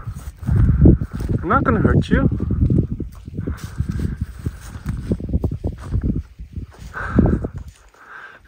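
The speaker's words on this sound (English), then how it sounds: "I was right outside the tent and I heard hoofs." A person speaks softly over a steady, uneven clopping of wild horses' hooves nearby, walking close on open mountain ground outside a tent in Italy.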